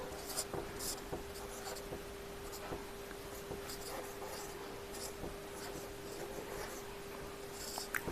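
Pen or pencil writing out a maths question about a circle on paper, a steady close scratching with short strokes and pauses, running alone for several seconds beneath a faint constant hum.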